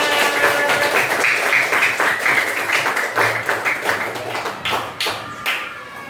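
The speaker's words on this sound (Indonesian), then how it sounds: "Ya, tepuk tangan buat semuanya." A class of students claps their hands together in a classroom, quick uneven clapping from many people that stays lively throughout and thins slightly toward the end.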